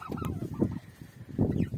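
Farmyard turkeys gobble near at hand in two rough, warbling bursts separated by a short lull, with no talk over them.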